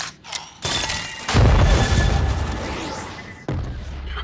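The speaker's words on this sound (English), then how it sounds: "Oh, wow. A huge explosion then." A massive blast erupts in the animated series Arcane, followed by a sustained roaring rumble that slowly fades, then a second sharp burst near the end; loud and cinematic, with no voices.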